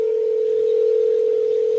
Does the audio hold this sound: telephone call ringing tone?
yes